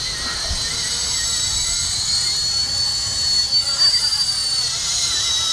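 A model helicopter's high-pitched motor whine drones steadily throughout, with rumbling wind noise and faint voices in the background.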